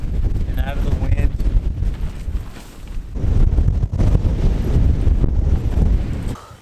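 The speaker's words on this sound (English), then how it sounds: "And boy, is it windy." Strong gusty wind in the mountains of Snowdonia on a freezing winter day buffets the microphone in loud, surging roars that briefly ease midway, with a voice speaking over the gusts.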